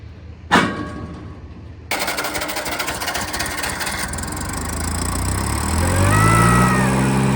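A Wisconsin engine powering a blower at a dirt-work site: a sharp bang, then the engine catches into a loud, fast, rattling drone that keeps running and grows heavier and rougher toward the end, with no voices.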